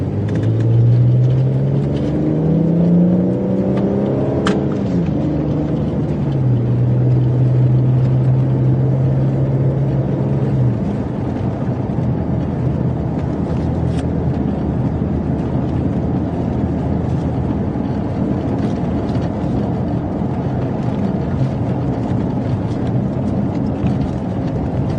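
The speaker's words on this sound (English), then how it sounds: "We're in the middle of a dust storm" Dust storm wind roars around a storm-chasing vehicle at the leading edge of an outflow, a loud, steady broadband rumble with a low engine drone in the first seconds and no talking.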